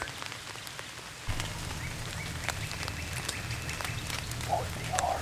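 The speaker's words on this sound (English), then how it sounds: "About to get rained on." Rain falling during a storm in Mississippi woods, a steady soft patter that thickens after a moment, with scattered drips and a faint bird-like call near the end.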